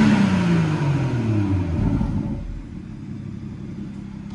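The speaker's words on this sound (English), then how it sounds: "I'm now taking it out of sport and I'm going to rev it again." A BMW 340i M Sport Touring with an M Performance sound and power pack, revved with sport mode off: a single loud engine rev climbing and then falling away into a smooth, quieter idle rumble, close by and without talk.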